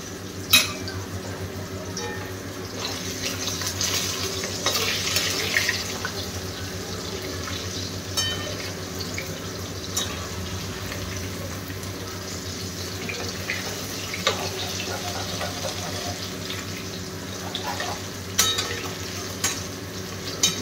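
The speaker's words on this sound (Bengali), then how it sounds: "এদিকে মাছ ভাজাভাজি চলছে" Fish frying in a pan in a home kitchen: a continuous sizzle with watery splashes and occasional sharp clinks and scrapes, heard close and steady throughout.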